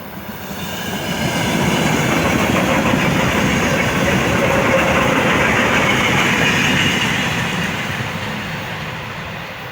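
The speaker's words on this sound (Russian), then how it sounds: "многие электропоезда проследуют данную платформу без остановки" An electric commuter train runs through a small rural stop in Ukraine without stopping, its loud, steady rumble and wheel clatter swelling within the first two seconds, holding, then easing toward the end, with no voices.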